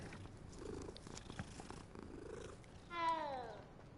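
Cat purring in the game Hogwarts Legacy, a soft close purr under light background sounds, ending in a short, higher meow-like call near the end.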